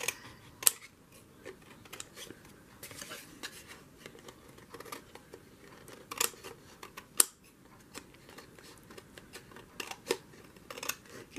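Scissors snip through the folded edge of a paper envelope with a run of quiet, close, irregular clicks and cuts, faint against a soft background.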